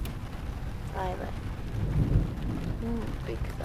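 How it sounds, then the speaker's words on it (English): Thunder rolling during a heavy rainstorm heard from indoors, a deep, low rumble swelling under steady rain noise, with brief voices talking over it. "big thunder"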